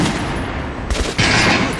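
Weapon fire in the shooter video game Metro, a loud close burst of rapid shots layered over steady game noise, with a second sharp volley following a brief dip.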